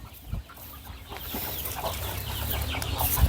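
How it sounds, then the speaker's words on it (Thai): Backyard chickens cluck in a home garden coop at feeding time. Steady, close clucking goes on throughout, with a few brief thumps and rustles in the pen. "มาให้อาหารไก่ครับนะครับเล้าไก่บ้านสวนนะครับ"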